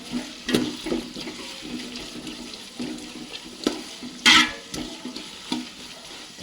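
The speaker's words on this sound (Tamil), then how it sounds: "இப்போ ஃப்ளேம் கொஞ்சம் ஹையாக வச்சுக்கிட்டு ஃபாஸ்ட்டாக தாளித்து எடுத்துடலாம்" Spices for a mutton gravy tempering in hot oil over a high flame, a light continuous sizzle broken by spoon clinks and stirring clatters, with one louder splash of crackle midway.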